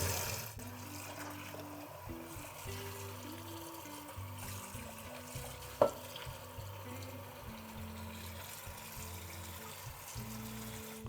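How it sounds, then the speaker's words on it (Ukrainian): Candied orange peel is rinsed under cold running tap water: a steady, faint hiss of flowing water over a low hum, with one brief knock midway and no voices. "Зливаємо воду і промиваємо цукати під холодною водою."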